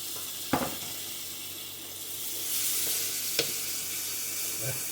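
Sliced potatoes frying in a pan beside beer sausage, a steady close sizzle with a few clanks and scrapes of stirring, no talk.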